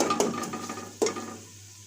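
Masala for white chana pulao frying in a pan, a soft continuous sizzle broken by two distinct scraping strokes of a spatula about a second apart, close, quiet and without talk.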